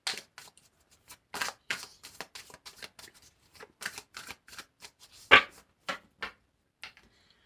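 Tarot cards being shuffled by hand, close up, in a string of short crisp riffling and slapping bursts spaced irregularly, one sharper snap near the end, with no talking.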